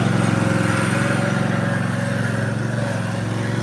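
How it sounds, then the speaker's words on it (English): A lawn mower engine runs steadily at close range on a residential front yard, a continuous droning hum with a buzzy rhythmic pulse and no voices. "he turned his mower off"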